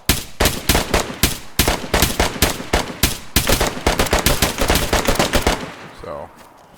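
AI-controlled enemies fire guns in DayZ on a modded PvE server: loud, rapid volleys of shots crackle in an uneven automatic rhythm for about five seconds, then break off into a fading echo.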